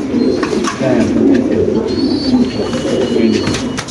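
Pigeons at a pigeon seller's coo in a steady, throaty rumble throughout, fairly close and loud, with people talking over them.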